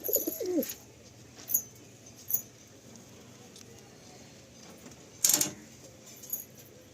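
Pigeons in a loft in Kolkata give soft, faint coos and brief flutters against a quiet background, with occasional sharper bursts of wing or metallic clatter.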